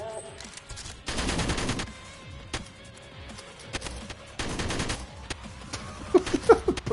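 Gunfire in the video game Gungrave G.O.R.E, with two sustained bursts of rapid shots and scattered single cracks between them, loud and close, and a few sharp hits near the end.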